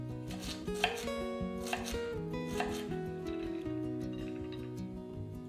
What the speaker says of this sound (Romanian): Tăiem în cubulețe morcovul.